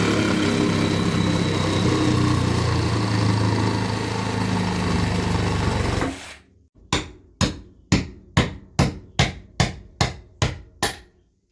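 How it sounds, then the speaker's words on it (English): A Milwaukee hacksaw cuts out a section during a can light installation: a loud, continuous buzzing cut for about six seconds, then about ten sharp, evenly spaced knocks or taps. "I'm going to use my nice Milwaukee hacksaw."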